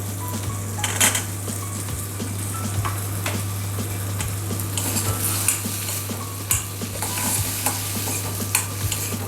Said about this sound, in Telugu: ఇదిగోండి మనం ఇందాక రెడీ చేసుకున్న పన్నీర్. ఓకే, దీన్ని కొంచెం వేయించేసుకుందాం